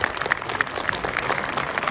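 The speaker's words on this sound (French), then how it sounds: "Félicitations pour les applaudissements" Audience applause for contest winners at a One Piece Red presentation in a Kinepolis cinema, a short burst of dense clapping from a modest crowd with scattered sharper individual claps.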